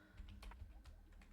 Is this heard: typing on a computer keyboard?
yes